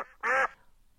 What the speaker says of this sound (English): Ducks say quack.